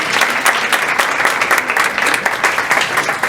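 A crowd at a Día de la biblioteca event gives sustained, dense applause, steady and fairly loud for several seconds with no voices over it.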